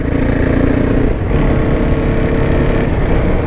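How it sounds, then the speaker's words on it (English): A KTM Duke 690, a 690cc liquid-cooled single-cylinder motorcycle with a 6-speed gearbox, runs loud and close with a throbbing, steady engine note that dips briefly before resuming, with no talk over it. "I think this is a 6-speed, yeah, 6-speed 690cc liquid cooled single cylinder."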